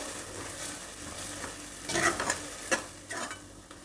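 Thick spinach paste for palak pulao being stirred and fried in a pan over a low flame, with scraping spoon strokes that bunch up near the middle over a soft steady sizzle and no talking.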